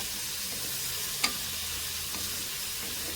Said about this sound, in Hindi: तकरीबन 7-8 मिनट तक चिकन को फ्राई करूंगी, ताकि अच्छी तरह इसका पानी खुश्क हो जाए और अच्छी तरह ये गल जाए लहसुन और अदरक के पेस्ट में